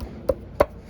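A Datsun L28 engine timing cover on a 280Z assembly is pressed onto its dowel pins, giving two short, sharp metallic knocks close together in a quiet workshop.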